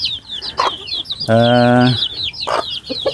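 Bangkok chickens on a poultry farm cluck and call during afternoon feeding, with a loud close drawn-out call in the middle among busy chirping and clucking from the flock.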